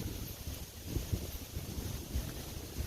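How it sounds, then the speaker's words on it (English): Strong wind buffeting a microphone outdoors on a disc golf course, a continuous low rumbling roar with gusty swells, close and steady, without talking. "As the wind builds up again."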